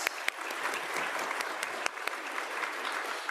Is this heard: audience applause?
yes